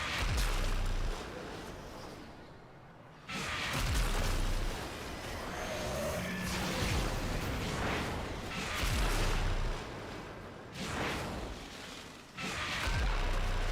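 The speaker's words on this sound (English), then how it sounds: "the explosion radius is insane" Repeated explosions in the video game Warframe: a series of loud, broad booming blasts with short dips between them, following one another across the stretch with no voices.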